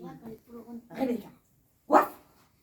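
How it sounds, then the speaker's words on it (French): A farm dog gives a single sharp, loud bark near the end, following a stretch of people talking in French with no barking under the speech. "Le chien de la ferme de Castres. Et j'aboie tout le temps."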